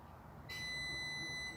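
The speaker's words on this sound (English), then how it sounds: "that beep means that it's receiving power." A single sustained electronic beep from a refrigerator as it receives power, high and steady, starting abruptly and holding for about a second over a low hum.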